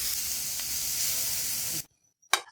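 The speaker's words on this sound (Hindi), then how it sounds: "हल्का सा फ्राई कर लेंगे।" Onion with a spoonful of garlic-ginger paste lightly frying for a stuffed karela dish gives a steady close sizzle that cuts off abruptly, followed by silence and one brief hissing burst.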